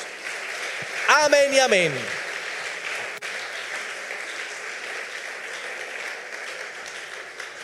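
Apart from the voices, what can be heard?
congregation applause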